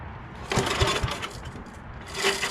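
An old snowblower engine is pull-started with the choke on: a few quick rattling, sputtering pulls and coughs that do not catch into a steady run, ending in a brief mechanical rumble.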